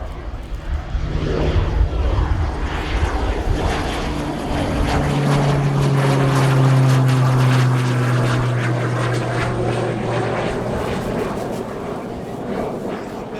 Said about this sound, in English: we're going to get a French Air Force TBM 700 light transport aircraft